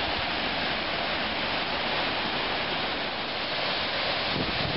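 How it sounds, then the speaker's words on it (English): Rapids on the Temperance River rush in a steady, dense roar of churning whitewater, loud and close throughout with no voices. "And now we've made it to a portion where it turns into rapids."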